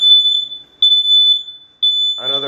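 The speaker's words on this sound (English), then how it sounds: "another fire alarm." A smoke detector fire alarm going off on a false alarm, piercing steady high beeps in long pulses with short gaps, loud and close, with a voice starting at the very end.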